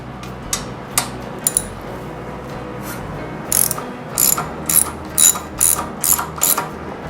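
A socket ratchet clicks while working on a 2007 Victory Vegas motorcycle during a drive belt change, with short bursts of rapid pawl clicks and sharper metallic ticks, close and distinct, without talking.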